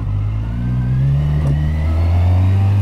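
A Kawasaki Versys 1000 motorcycle engine hums close by at low revs while turning around, a steady loud drone that rises slightly in pitch toward the end.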